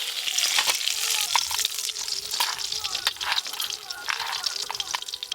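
Fish heads fry in a pan during village-style home cooking, a crackling sizzle with bursts of spattering and stirring, moderately loud, while a voice talks over it.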